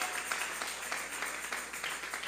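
A church congregation claps in praise during a Spanish-language worship service, a faint, steady wash of applause heard from a distance and continuing without pause.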